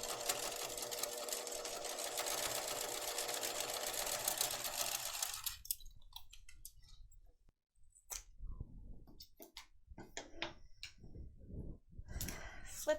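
Sewing machine stitching across a backpack strap to attach it, a steady loud mechanical whir for about five seconds, then quieter handling clicks and rustles.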